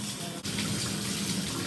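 A bathroom tap runs steadily with warm water, a continuous hissing gush at close range that fills the whole moment with only a tiny break.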